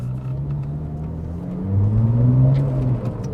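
A turbocharged Porsche GT2 engine hums low and steady on the road, then swells into a deeper rising drone as it accelerates, muffled and smooth.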